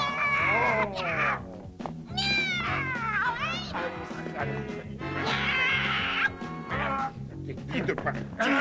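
A cat meows and caterwauls repeatedly, loud and close, with strained wavering cries spread across the scene while people speak French around it.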